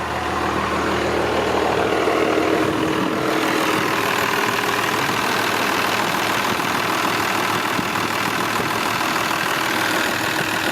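Close, loud idle of a stock 12-valve second-generation Dodge diesel truck, a steady low rumble with a fine rhythmic clatter that holds throughout.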